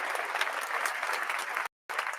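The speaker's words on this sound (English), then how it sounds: "Let's give Jay Fonda a round of applause for that one" Brief burst of dense crowd applause, many hands clapping evenly and fairly loud for about two seconds, broken by a short gap of silence near the end.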